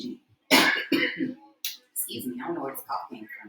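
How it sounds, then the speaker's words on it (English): An adult gives a short, loud cough close to the microphone, followed by brief throat noise that runs into quiet speech. "I don't know where this cough came from"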